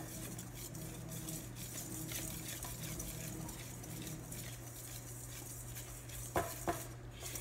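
A utensil stirs melted butter into brownie batter in a bowl, giving soft, faint scraping and gentle patter over a low steady hum, ending with a couple of sharper knocks.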